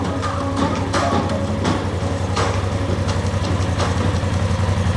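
A side-by-side off-road vehicle engine idles steadily and loudly, a continuous low rumble with a faint rhythmic chug and occasional rattles.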